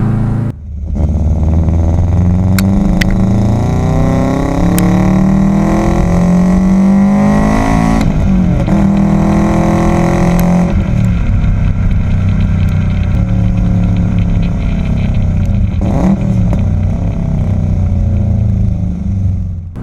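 A 2001 Subaru Impreza coupe with a WRX engine swap, stage 2 tune and full exhaust drones loudly and steadily, its deep exhaust note rising and falling in pitch as revs climb and settle, with brief higher revving bursts.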